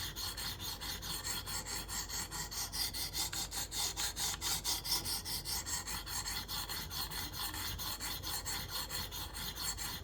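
Knife blade being drawn across a KME sharpener stone in a steady, rhythmic back-and-forth rasping, soft and close, with no talk.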